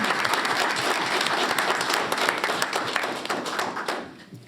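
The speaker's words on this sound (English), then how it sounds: "a round of applause for" A round of applause at a farewell gathering honoring a long-serving official, dense steady clapping from a crowd sustained for several seconds and fading at the end.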